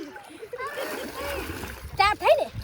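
Water splashes during a cold-water bath at home, soft wet splatters running under nearby talk, with a voice breaking in loudly near the end.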